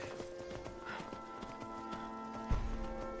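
Hooves of a spectral ghost horse in Skyrim clip-clopping in a quick, uneven trot, moderately close, over a steady hum of game ambience with a heavier thud near the end.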